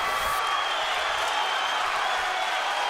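At a boxing title fight in Tacoma, the arena crowd cheers and applauds in a continuous, fairly distant wash of clapping and roaring voices.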